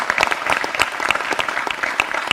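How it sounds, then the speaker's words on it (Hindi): Studio audience giving loud applause to welcome guests on a cricket talk show, a dense burst of rapid clapping throughout with no talk over it. "जोरदार तालियों से उनका स्वागत करें आप।"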